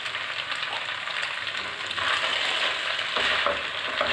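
Veggie noodles with mushrooms, corn and olives frying in a pan with lemon juice, a continuous close sizzle with a couple of louder bursts as the food is tossed and stirred.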